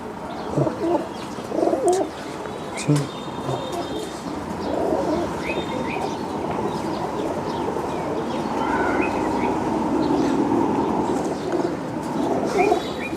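Pigeons cooing at a pigeon farm, a soft continuous murmur of many birds with a few louder coos up close, and a low rumble running underneath throughout.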